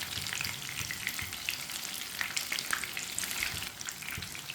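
Brinjal slices frying on both sides in a pan over low heat, giving a steady close sizzle with soft crackles and a few faint stirring scrapes throughout, no voices.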